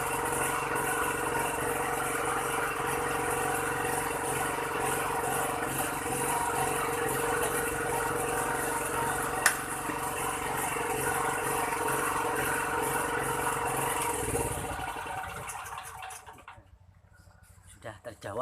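A 2200 W petrol genset runs steadily in a workshop, its engine drone continuous and fairly close, with voices talking over it, before the noise cuts off near the end.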